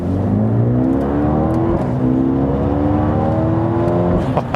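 A Mercedes A35 AMG with traction control in sport mode accelerates hard, its engine note rising steadily through gear shifts, loud and continuous from inside the car with no talk.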